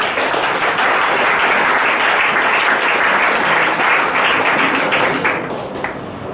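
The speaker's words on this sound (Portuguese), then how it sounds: "Então vamos aplaudir essa verdade." A church audience at a vocational gathering bursts into loud, dense applause that holds steady for several seconds before starting to taper off near the end.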